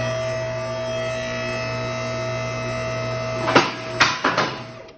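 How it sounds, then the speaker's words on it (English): A four-post car hoist's steady mechanical hum runs throughout, then a few sharp metallic clicks and clanks of its safety locks arrive near the end, close and distinct. "Noise you hear are the safety locks."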